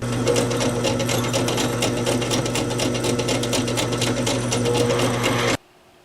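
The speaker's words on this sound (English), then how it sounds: "So we just want to hit that with a little chamfering bit like this one." A single-flute chamfer bit spinning against a metal folding-knife lock bar gives a steady, loud, buzzing machine whir that runs evenly for about five seconds, then cuts off abruptly.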